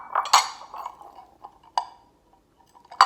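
West Elm bowls clink and knock against each other as they are handled, a few sharp, close ceramic taps spaced out with quiet gaps between them.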